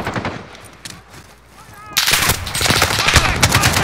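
Modern Warfare gunfire: scattered distant shots give way to loud, sustained automatic fire that fills the second half, with a voice heard briefly.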